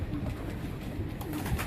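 Young racing pigeons coo softly and continuously in a loft, a low, murmuring flock sound close by with no speech.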